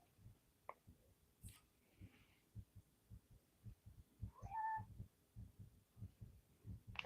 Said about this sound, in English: So if you hear the cat meowing,